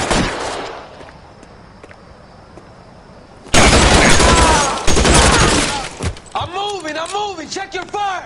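Heavy sustained gunfire bursts erupt loudly in an L.A. Noire shootout, dense volleys with shouting voices mixed in over the din.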